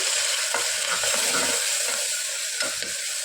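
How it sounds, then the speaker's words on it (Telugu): Fenugreek leaves fry in hot oil with a steady close sizzle, broken by a few sharp scraping stir strokes against the pan. "సో ఈ మెంతి కూరని ఆయిల్లోనే బాగా ఫ్రై చేసుకోవాలి."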